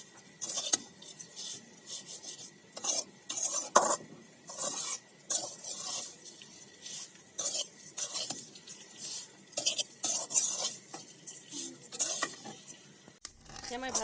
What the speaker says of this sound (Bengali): সেমাইটা ভালো মতো ভেজে নিতে হবে।